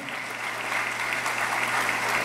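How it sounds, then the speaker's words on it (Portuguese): Dense, steady applause from a congress audience at a national legal conference, sustained and evenly loud throughout, with a faint low hum in the room. "Nós pedimos uma salva de palmas a todos os deste painel"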